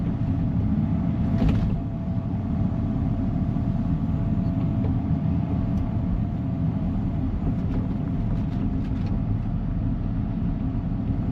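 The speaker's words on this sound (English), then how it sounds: "And keep it cut with the tractor." Tractor engine running steadily while cutting earth along a creek, a continuous low rumbling drone at moderate distance with small irregular knocks and no voices.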